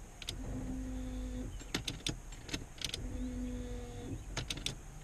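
An electric fuel pump primes in a 1987–1991 Ford F-series truck as the key is cycled, giving two separate buzzing whirs of about a second each, with clicks and clunks in between, heard close in a quiet cab.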